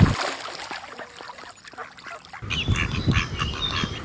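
Ducks quack among the busy ambient noise of a Kuttanad duck farm, a scattered flock heard at moderate distance under general outdoor clutter that shifts partway through.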